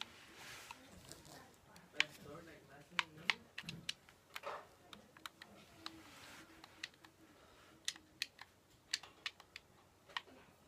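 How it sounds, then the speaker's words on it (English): Random keys on a computer keyboard clicked in scattered, irregular taps and short bursts, close and fairly crisp, over a quiet room with faint background noise and no talk. "I'm just clicking some random buttons"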